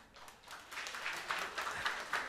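Audience applause at a Silesian hit-song show in Pawłowice, a crowd clapping with sharp individual claps that build in strength, rhythmic and close.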